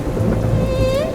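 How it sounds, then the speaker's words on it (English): Steady heavy rain with a low rolling rumble of thunder in a dramatic short film scene, a continuous loud wash of noise with a rising tonal whine near the end. "Damn the rain."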